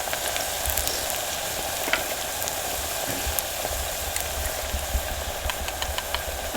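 Onions already reddened sizzle steadily in a hot pan in a village kitchen as spice masala is added, a dense continuous frying hiss with occasional small pops and no talking.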